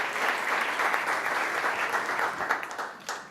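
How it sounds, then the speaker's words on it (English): Conference audience applauding a startup competition finalist at South Summit 2017, a dense, steady wash of clapping from a crowd, moderately loud and continuous throughout. "Round of applause"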